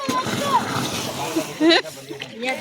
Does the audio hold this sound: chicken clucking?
no